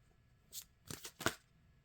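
A deck of native spirit oracle cards is shuffled in a few quick, close riffling bursts with brief pauses between, crisp and papery in a quiet room.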